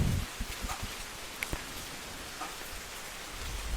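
Soft, steady rain pattering on and around a porch, with a few louder drops tapping nearby; no voices, just a gentle continuous wash.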